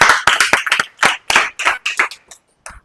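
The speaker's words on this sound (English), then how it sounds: "Clap for her." An audience claps for a woman at a purpose-finding workshop, with loud, scattered bursts of claps that thin out and end in one late clap.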